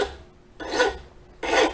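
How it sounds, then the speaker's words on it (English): Two slow, harsh rasping strokes of a rusty hand file scraping rust from a lawn mower blade, close and fairly loud, separated by a short quiet pause. "use the finer side and just scrape"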